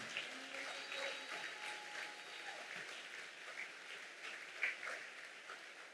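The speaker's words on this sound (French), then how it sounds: "Tu peux acclamer ton Dieu." A church congregation applauds God in steady, continuous clapping with a few whoops and voices mixed in, heard at moderate distance in a reverberant hall.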